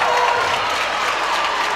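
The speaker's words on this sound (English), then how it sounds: "Loudest cheer of the day from the Rockets fans below us." Rockets fans in the stands cheer and applaud at a women's basketball final, a loud, sustained wash of crowd noise that holds steady throughout.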